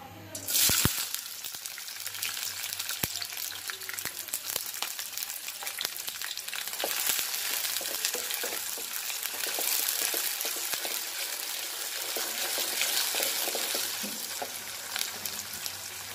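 Prawns frying in a pan during home cooking, a steady loud sizzle that holds throughout with occasional stirring and clatter, close up and without speech.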